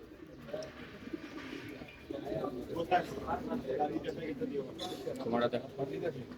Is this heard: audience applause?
no